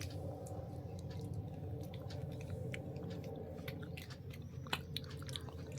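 Soft, close chewing of boiled green peas, with faint wet crunches and small mouth clicks scattered over a steady low background hum, quiet throughout.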